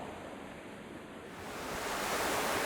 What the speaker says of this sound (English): it would be picking up the sound of the water down here